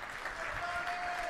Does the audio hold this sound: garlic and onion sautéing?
no